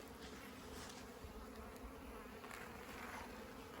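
Honeybees droning steadily inside a top bar hive during a spring inspection after overwintering, a dense continuous buzz from many insects that stays even and close throughout.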